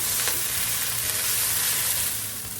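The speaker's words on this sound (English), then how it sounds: "You just kind of want to toss it to make sure that all sides get nice and browned." Beef chunks and onions browning in a hot skillet, a steady loud sizzle and crackle with faint stirring scrapes throughout, close up with no voices.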